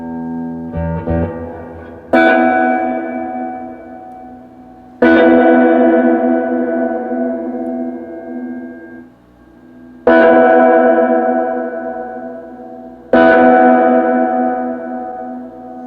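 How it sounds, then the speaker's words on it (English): Chords ring out through a 1963 Magnatone Twilighter 213R amplifier with heavy reverb, four strummed hits each blooming into a long, washy decay that fades over several seconds, loud and without voices. "let's give this Las Vegas hotel hallway reverb a listen"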